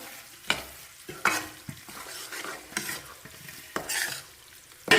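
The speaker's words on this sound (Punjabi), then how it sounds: "ਆ ਦੇਖੋ ਇਹ ਵੀ ਵਿੱਚ ਐਨ ਰੜ ਰਿਹਾ ਸਮਾਨ" Dry fruits, kachri and edible gum roast in a pan, with soft sizzling under repeated spatula stirs and scrapes that come as irregular sharp strokes, close and fairly quiet, with no talk.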